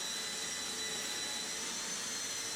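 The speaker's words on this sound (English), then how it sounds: "I'm using my Festool Planex vacuum sander" A Festool Planex vacuum sander with 180 grit sandpaper runs on skim-coated drywall, a steady close whirring hiss without pause.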